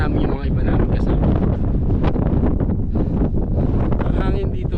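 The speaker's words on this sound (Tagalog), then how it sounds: "Ang hangin dito guys, napakalamig" Cold wind buffets the microphone on a mountain summit at Mt Tugew in Kayapa, Nueva Vizcaya, roaring loud and steady throughout with gusty rustling and no pause.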